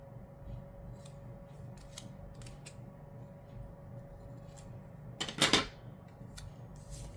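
Scissors trim planner paper at a desk, a quick crisp burst of snipping near the end after several faint rustles and taps, close and otherwise quiet.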